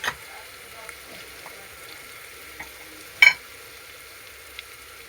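Coriander-cumin powder and asafoetida sizzling in hot oil while cooking a dhaba-style corn curry, a low steady fizz throughout with a brief sharp crackle near the middle and faint clinks.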